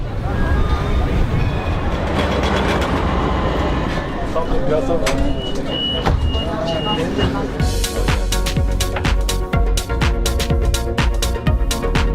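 Tram rolling along rails through Istanbul, with a steady low rumble, rhythmic rail clicks and squeaks, and brief speech mixed into the continuous ride noise heard from on board.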